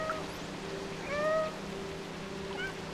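A cat in the video game Stray gives a few short, clear meows, fairly close, against a quiet, steady hum in the background.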